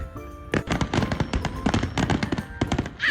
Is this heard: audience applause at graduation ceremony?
no